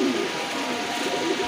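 A male Beauty Homer pigeon coos with low, rolling, continuous calls, close and steady, among other birds' sounds and light background noise.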